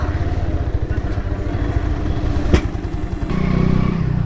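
A motorcycle runs at idle at the foot of Palani hill, a steady low engine chug, loud and close, with a sharp clatter midway and a slight rise in rumble near the end.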